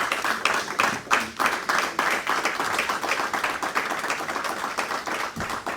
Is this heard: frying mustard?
no